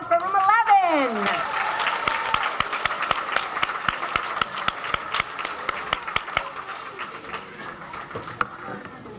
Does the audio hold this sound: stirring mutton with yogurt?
no